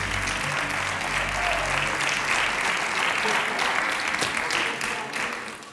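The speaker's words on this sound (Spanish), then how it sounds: "¿Aplaudís?" A studio audience applauds loudly and continuously, a dense wash of clapping that holds steady and tapers slightly at the end, with voices mixed in.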